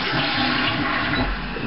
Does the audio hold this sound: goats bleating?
no